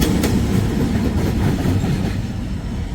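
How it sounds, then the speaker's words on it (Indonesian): A loud, close CC206 diesel locomotive shunting at Lempuyangan station, Yogyakarta, rumbles steadily with heavy low-end drone and rolling wheel noise, continuous throughout without speech. "ada lansiran lokomotif CC206X kereta api Kalem Service yang baru saja tiba di stasiun Lempuyangan"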